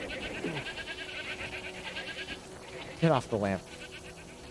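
A goat bleats in the video game Crimson Desert, giving two short, wavering cries close together near the end. Someone talks over steady background game noise.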